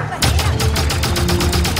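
Rapid, loud gunfire from the video game Halo 5 rattles in a steady stream of repeated shots for nearly two seconds, close and continuous.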